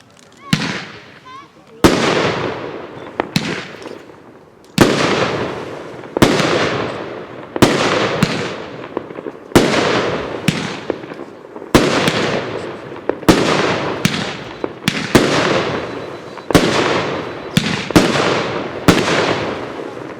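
A Royal Bonsai consumer firework cake at a Dutch fireworks demonstration fires a rapid series of sharp launch thumps and crackling bursts, echoing outdoors.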